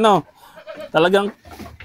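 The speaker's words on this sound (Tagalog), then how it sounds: "quality yung mga kambing dito ni Mang Berting" Two close, wavering goat bleats ring out, separated by a brief pause with faint background murmuring.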